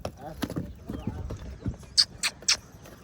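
Hooves of a newly bought mare clip-clop in a few sharp, separate strikes, close and fairly loud, with people talking and other outdoor noise around them.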